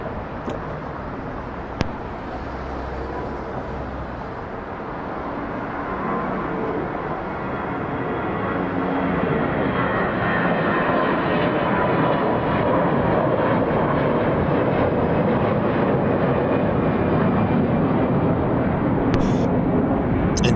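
An Airbus A321-211 airliner at Atlanta International Airport produces a loud, continuous jet engine roar that builds in strength and holds steady, with a faint passing whine and no voices.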